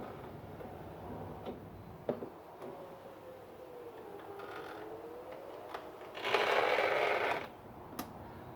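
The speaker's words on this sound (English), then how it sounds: "do you have a window in your E46 that sounds like this?" A failing passenger window regulator in a BMW E46 grinds and ticks as the glass moves, with scattered clicks and a rising, rough mechanical buzz near the end, close and moderately quiet.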